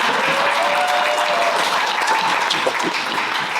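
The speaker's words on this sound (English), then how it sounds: "You can help him by clapping." An audience at a talk on human intelligence and leadership gives steady close applause, a dense even wash of clapping lasting the whole few seconds.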